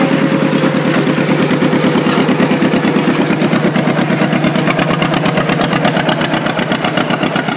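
A John Deere 110 lawn tractor engine with a carburetor fuel-flow fault, idling loud and close with a rapid, steady thumping pulse and a slightly uneven knock, no voices over it.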